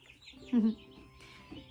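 Brown Brahma chicks give a brief, soft peeping chirp, with a short louder call in the middle, faint and close in a quiet room.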